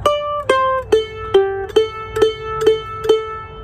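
Mandolin playing the ending line of a bluegrass tune: eight bright picked notes about half a second apart, close and clear, descending at first and then repeating one pitch.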